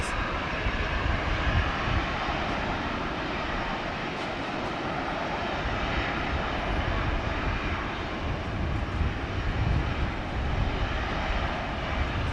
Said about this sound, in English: See if we can get this plane taking off.